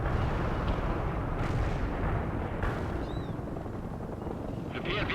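Artillery strike in the video game World in Conflict: a sustained rumbling barrage of heavy booms with sharper blasts breaking through, loud and continuous, with some faint voices in the mix.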